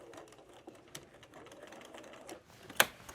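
A home sewing machine puts in a few quick stitches to start a rolled hem on a thrifted shirt, a soft, fast ticking run ending in one sharp click, fairly quiet with no talking.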